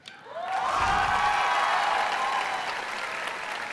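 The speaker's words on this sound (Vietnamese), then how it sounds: "Một tràng pháo tay chúc mừng cho Quang Duy và cậu bé Gia Hào." A studio audience at a televised dance competition bursts into applause that swells quickly after a soft start and then holds loud and steady, with scattered cheers and a faint musical tone running through it.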